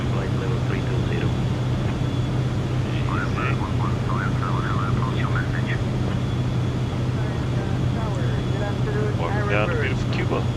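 Airliner landing in Microsoft Flight Simulator 2024, heard as a steady cockpit engine drone with a strong low hum, while air traffic control radio chatter and pilot voices continue on top throughout.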